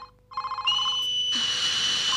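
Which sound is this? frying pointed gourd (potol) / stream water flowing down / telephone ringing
telephone ringing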